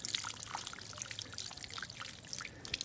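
Water poured from above onto well-draining organic soil in a plant pot, a faint close trickle and splash lasting a few seconds, quiet and continuous with no talking.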